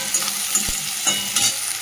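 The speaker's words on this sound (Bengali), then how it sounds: "পেঁয়াজটা ভালো করে লাল করে ভেজে নিই" Onions frying in a pan with a bay leaf tempering, a constant close sizzle broken by a few quick spatula scrapes and taps.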